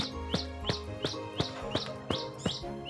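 Small bird chirping in an animated children's story, a run of eight bright, evenly spaced tweets that sound close and clear, with no talk over them.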